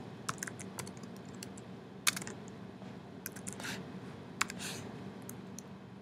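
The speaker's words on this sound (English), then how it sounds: "type in the name of the new leave type" Typing on a computer keyboard while entering a name into leave-management business software: scattered, fairly quiet key clicks in short irregular bursts over a steady low background hum, with no talking.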